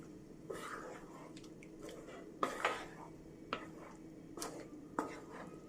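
A spoon stirs kappa masala, a tapioca curry, in a pot, giving soft scraping and several light clinks against the metal at irregular intervals, with quiet low voices underneath.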